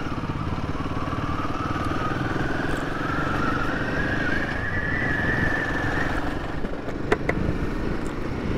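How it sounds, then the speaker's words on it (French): A Royal Enfield Himalayan motorcycle cruising at about 40 km/h in fifth gear, its engine note a steady, slightly clattery drone heard up close with wind roar throughout and a brief tap near the end. "Elle clacote un petit peu l'Himalayan à 40 km/h en 5e."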